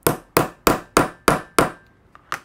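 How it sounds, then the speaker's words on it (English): Hand hammer striking a rivet tool to punch holes through an in-the-hoop embroidered rivet pouch: six sharp, evenly spaced blows close by, then a couple of lighter taps, with no talking. "and then you're just going to hammer"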